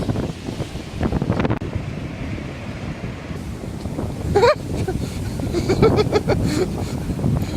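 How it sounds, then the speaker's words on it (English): Ocean waves and wind on the New Zealand coast, open sea ahead: a loud, continuous wash of surf with gusty wind buffeting the microphone and a few faint higher calls in between. "there's nothing but ocean in front of me right now, for thousands of miles"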